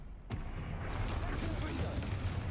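A Bombarda blasting spell explodes in a Harry Potter video game: a sudden heavy boom opens into a loud, rumbling roar of debris that keeps going, with a voice shouting over it.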